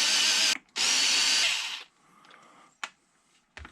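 Power drill whirring in two loud bursts while backing screws out of an Arrma Kraton EXB RC car, the second burst longer, followed by quieter handling clicks and a short clatter.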